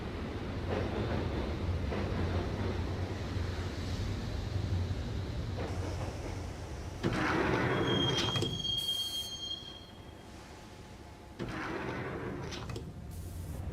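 Train ride toward Roscoe Street Station in Max Payne: a steady rumbling carriage with wheel squeal and a rising hiss of braking, then a high screech and a door-like slide before the rolling noise resumes.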